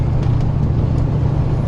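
An RV engine cruises at about 1,800 RPM on the highway, a steady low droning hum with road noise that holds constant throughout.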